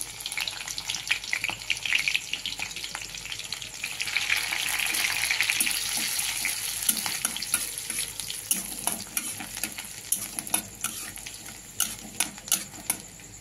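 Chopped garlic frying in a pan, a soft continuous sizzle with scattered stirring clicks and scrapes, fairly quiet and close.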